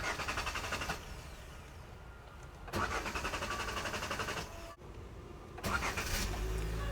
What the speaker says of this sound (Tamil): இப்போ நான் வண்டியை வந்து ஸ்டார்ட் பண்ணுறேன்